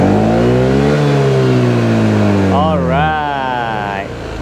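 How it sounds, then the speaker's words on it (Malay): Exhaust of a WMOTO NX150S scooter being revved close up, a loud engine note that climbs and falls in pitch with a quick rev burst partway through, then settles back. "Ni pula bunyi dari bahagian exhaust ataupun muffler."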